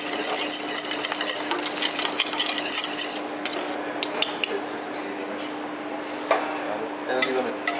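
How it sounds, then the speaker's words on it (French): A whisk scraping and clinking in a pan as egg yolks and sugar are mixed into boiling milk for crème anglaise, a steady close-up rubbing rhythm, with a voice talking faintly at times. "on incorpore le lait bouillant, on mélange jaune d'œuf et sucre"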